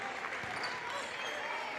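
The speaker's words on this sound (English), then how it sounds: "here comes the round of applause for Brendan White" Continuous applause from a high school boys basketball crowd, Milford Scarlet Hawks against Tantasqua, as a player leaves the court late in the game. Steady and fairly even throughout, with faint background noise.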